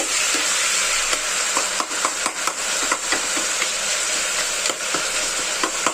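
Chicken frying with rock salt in a pan for chicken sherva, a steady loud sizzle with occasional stirring scrapes and clinks, close and continuous.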